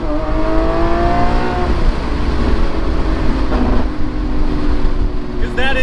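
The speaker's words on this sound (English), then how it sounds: "This car is the naturally aspirated V12 right behind my head." Lamborghini Aventador SVJ Roadster with its naturally aspirated 6.5-liter V12 behind the seats gives a loud, steady engine drone with rising and falling harmonic tones, then a brief rev near the end.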